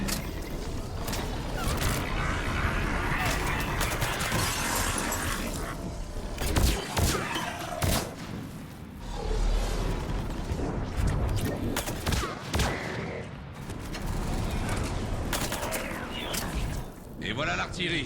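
Artillery fire and battle noise in the video game Mass Effect 3: a continuous, loud barrage with repeated booming blasts and mechanical clatter, with voices talking over it.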